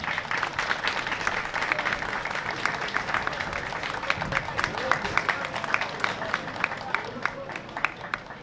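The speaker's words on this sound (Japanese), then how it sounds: "どうぞ大きな拍手でお迎えください。" Audience applause greets the arrival of a special tourism ambassador mascot at the opening of a traditional performing arts festival in Narita, a dense steady clapping from a crowd with some background voices throughout.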